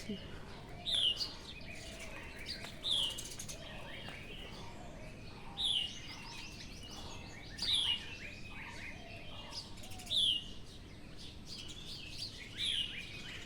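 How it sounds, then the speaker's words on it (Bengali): A bird repeats a short, high chirping call roughly every two to three seconds, moderately distant, over a quiet background. "পাখির ডাক"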